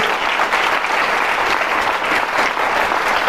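Dense, steady applause fills a Parents Day celebration hall, with the audience clapping for a student named on stage, unbroken and loud throughout.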